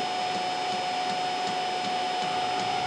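A homemade Webasto-style diesel air heater running, a steady close whooshing roar with a faint regular ticking pulse repeating about three times per second.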